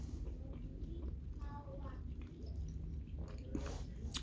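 Someone chews soft, chewy homemade food close up, with quiet wet smacking and squishing bites over a low background hum.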